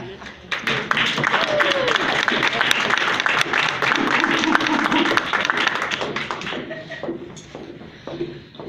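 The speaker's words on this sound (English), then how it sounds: "Let's give him another round of applause." Audience applause at a stop-the-violence banquet: dense, lively clapping from a sizable crowd that builds quickly and holds for several seconds before thinning out, with crowd voices mixed in underneath.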